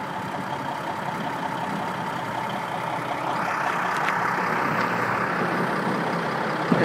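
A tandem truck's engine runs steadily while snow is loaded into it on a windy street, a continuous mid-range rumble that grows slightly louder partway through, with no talk.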